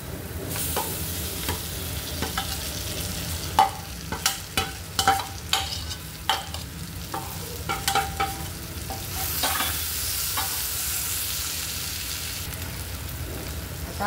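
Onion and capsicum stir-fry in a pan, with a continuous sizzle broken by repeated sharp scrapes and clacks of a spatula against the pan, near and fairly loud, no one speaking.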